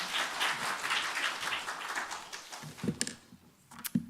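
A church congregation at a Sunday Baptist service applauds to welcome the pastor, a soft, even wash of clapping that thins out and dies away after about three seconds, leaving a few faint knocks.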